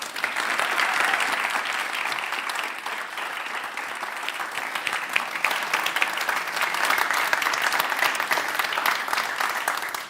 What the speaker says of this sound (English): You can see it in the applause